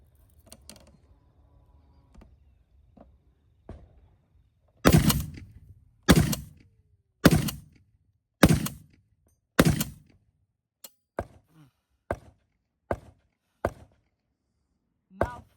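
A Barrett .50 BMG rifle fires five heavy, booming shots about a second apart, followed by a series of fainter, sharper reports at a similar pace after a quiet lead-in.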